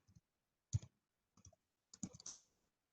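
Scattered, sparse taps on a computer keyboard as a search term is typed, quiet and close, a few isolated clicks followed by a short cluster, with no talking.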